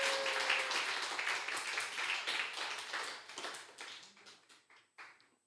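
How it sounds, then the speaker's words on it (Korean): A church congregation claps together, a dense burst of applause that thins out into scattered claps and fades away. "우리 박수 한번 칩시다"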